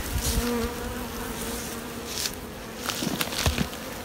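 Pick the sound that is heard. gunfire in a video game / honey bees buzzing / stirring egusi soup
honey bees buzzing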